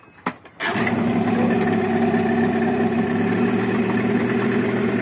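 A 15 hp outboard boat engine catches after a pull start with a brief rattle of the cord, then settles into a steady, smooth, close idle with an even mechanical drone.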